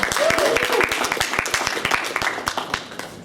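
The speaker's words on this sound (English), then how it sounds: "Another round of applause" A student audience at a Santa Clara University student government candidates' event claps briefly, the sharp claps thinning into scattered, distinct slaps while a voice talks over them.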